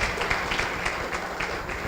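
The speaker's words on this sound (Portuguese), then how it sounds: "eu queria que vocês recebessem com a salva de palmas" An audience at a talk by engineer Joaquim Caracas applauds to welcome him: steady, dense clapping from many hands that holds at an even level throughout, with no voices standing out.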